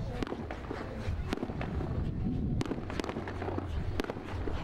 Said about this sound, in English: The night's festivities ended with a 15-minute fireworks display